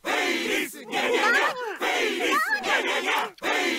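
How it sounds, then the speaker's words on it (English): A video game crowd in Steins;Gate chants loudly in unison, repeated rhythmic shouted phrases with brief pauses between, energetic and close, a cheering audience voice bed. "the crowd is chanting Faris meow meow meow"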